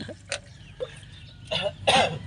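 Several harsh coughs come in separate bursts, the last two louder and closer together, with a rough throaty edge and no talking.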